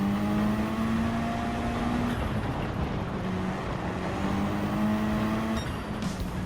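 A rallycross race car in Gran Turismo 7 drives on a steady engine drone, its pitch rising slowly and then dipping before climbing again as it slides through corners, loud and continuous with no talk.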